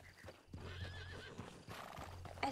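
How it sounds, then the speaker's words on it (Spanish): Morgan horse in the video game Red Dead Redemption 2 neighing with a wavering whinny, alongside snorts and clip-clopping hooves, fairly close and loud throughout. "Este caballo yo le pondría de nombre Arthur, es un Morgan"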